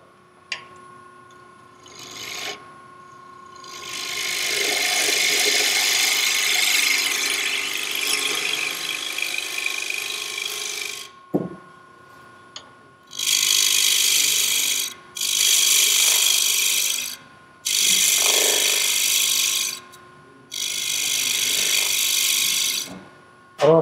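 A wood lathe turns a wooden box that includes ebony. A tool cuts in long scraping bursts, first one sustained stretch and then four shorter passes separated by pauses, over a faint, steady motor hum.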